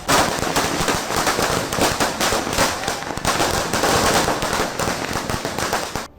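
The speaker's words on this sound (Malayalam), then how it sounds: "ഇവരെ പടക്കങ്ങൾ പൊട്ടിച്ചും ആർപ്പ് വിളിച്ചും ആളുകൾ അനുഗമിക്കും" Firecrackers burst in a rapid, continuous crackling barrage during a Vishu festival street procession in Kerala. The pops are loud and close, with no break for about six seconds.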